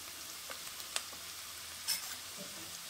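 Onions and gram flour (besan) are stirred and fried in a pan with a quiet, soft sizzle, broken by a few faint scraping clicks.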